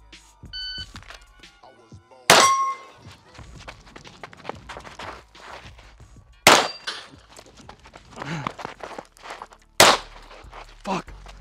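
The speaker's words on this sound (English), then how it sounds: "shoot the static steel, run behind this table, shoot one plate on the plate rack" Walther PDP pistol shots striking steel plates at a shooting stage: three loud, sharp reports spaced a few seconds apart, each ringing off the steel, with footsteps, movement and clatter between them as the shooter runs positions.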